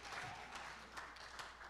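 Church congregation clapping after a hymn, a faint, scattered patter of hands in a large room, with a few sharper individual claps standing out.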